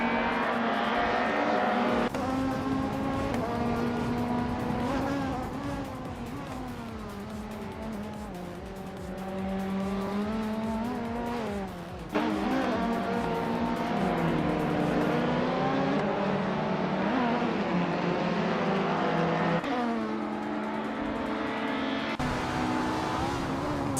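Race cars jostle and overtake in a racing video game, engines whining and rising in pitch through gear changes, with tire squeals and passing cars amid a steady loud roar.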